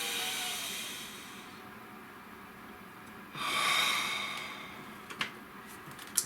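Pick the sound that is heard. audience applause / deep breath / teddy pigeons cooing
deep breath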